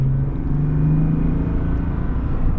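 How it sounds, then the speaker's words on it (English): A deep, loud engine roar builds steadily as a 2023 Chevy Silverado 1500 RST Duramax diesel pickup accelerates hard from inside the cab, downshifting, a low rumbling drone throughout. "let's get our full-blown acceleration here."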